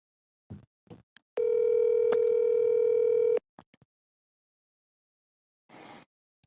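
A telephone ringback tone waiting for an answer, one steady two-second buzz heard through a phone, with a few soft clicks before and a brief rustle afterward.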